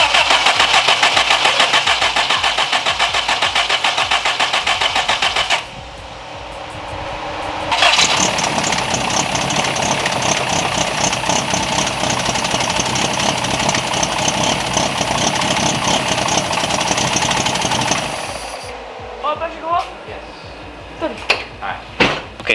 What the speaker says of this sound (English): then I also let the engine run